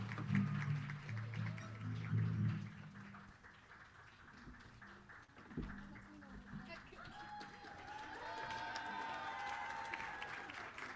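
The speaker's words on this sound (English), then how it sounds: "Keep clapping, we're not ready." Concert audience applauding, a steady wash of many hands clapping that runs throughout, with voices and stage noise mixed in.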